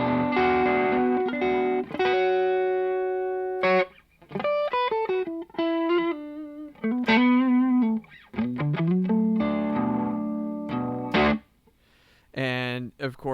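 Electric guitar through a Kernom Ridge overdrive pedal on a studio pedalboard plays chords and single-note phrases with a warm, driven, slightly gritty tone, loud and up close, with brief pauses between phrases.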